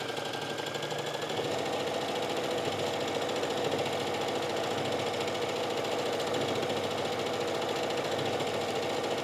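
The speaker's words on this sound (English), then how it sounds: "you would just go ahead and set this up to sew down the other side." A sewing machine runs continuously, stitching down a fabric casing on a pull-up sleeve. The motor and needle make a loud, steady whir and rapid clatter that carries on without pause or talking.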